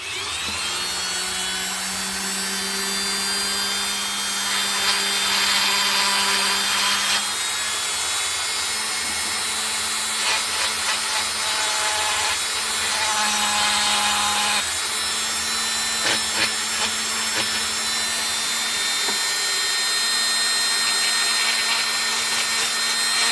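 Power tool cutting wood for a mixed resin handle on an envelope opener, a close whining motor with tonal hum that shifts pitch as the blade bites in bursts over about twenty seconds, with no voices.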